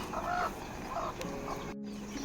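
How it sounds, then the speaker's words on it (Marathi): Broody hens sitting on eggs at a poultry farm give a few soft, low clucks in quick succession, faint and close with no talking. "आपल्या खोड कोंबड्या बसवलेल्या आहेत"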